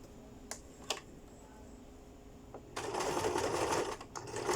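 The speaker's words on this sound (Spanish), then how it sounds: "vamos a coser, hacer una costura exactamente sobre el ribete" A sewing machine stitches a seam right over a fabric binding, starting after a few light clicks and running as a steady, moderately close whir for under two seconds before pausing briefly.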